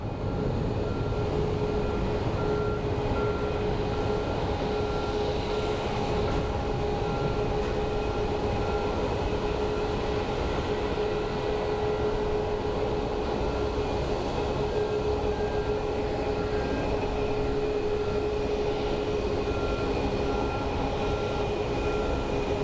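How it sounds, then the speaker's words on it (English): Embraer jet taking off at Phoenix Sky Harbor International Airport, a continuous distant engine roar with a steady whine layered on top, holding at an even level throughout. "We're going to get a little Embraer takeoff too."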